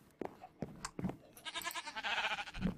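A sheep bleating in the video game Minecraft: a few short clicks and bleats, then a longer wavering bleat, fairly close and moderately quiet.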